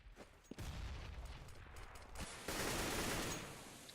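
Rifle gunfire in a competitive Counter-Strike match, ESEC 2014 Austria versus Switzerland, with sharp loud shots at about half a second and again around two seconds and two and a half seconds over dense in-game noise, with no talk.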